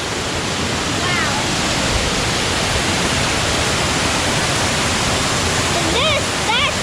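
Opossum Falls pours down as a loud, steady broadband rush of water heard close up, with faint voices briefly breaking through the roar.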